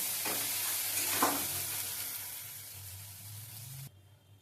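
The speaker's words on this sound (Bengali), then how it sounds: "ভালো করে আমি মশলাটাকে এখন কষিয়ে নেব।" Spice paste for chicken kosha with potatoes being stir-fried in a pan, a continuous close sizzle with a couple of louder stirring scrapes, fading slightly before cutting off near the end.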